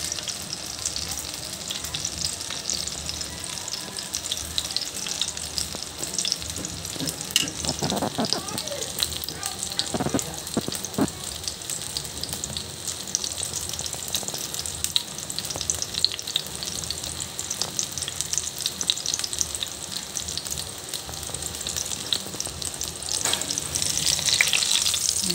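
Tortang talong, an eggplant omelet, sizzles in a frying pan, a steady crackling fry with occasional stirring scrapes and spatula knocks, close and continuous while a voice talks intermittently.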